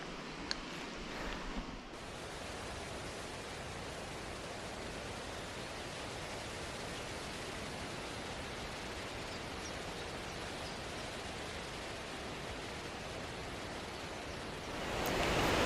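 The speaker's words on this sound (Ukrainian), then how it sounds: "бачите, як все лягає, вітер піднімається" Strong wind rising before a thunderstorm at a fishing spot roars steadily with a broad hiss and swells louder in the last moments.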